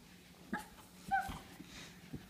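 A dog gives a few faint, brief whimpers and yips around a toddler learning to walk, short high squeaks scattered over quiet room noise.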